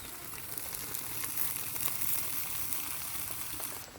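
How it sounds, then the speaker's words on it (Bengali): Fish cooks in a covered pan after water is added, giving a dense, continuous sizzle and hiss that stays loud and close, with a slight change near the very end. "এবারে এই জলটুকু দেব এবারে আমি মাছটা ঢাকা দিয়ে দিচ্ছি"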